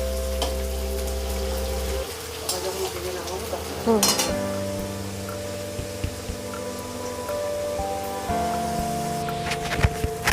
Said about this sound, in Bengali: আলুগুলো এখানে খুব ভালো করে লাল করে ভেজে নিতে হবে।